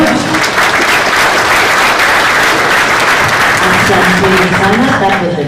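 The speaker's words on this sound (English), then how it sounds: "Let us give them a heavy round of applause" An audience at a correctional service week event gives a loud, sustained round of applause, dense steady clapping filling the whole stretch from start to end.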